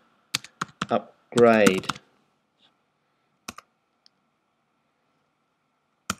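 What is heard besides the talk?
typing a command on a computer keyboard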